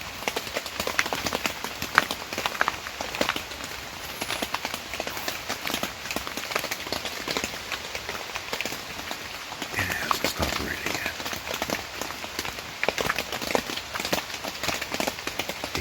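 Heavy rain in Vermont pours down in a dense, crackling wash, with scattered louder drops and splashes hitting surfaces nearby.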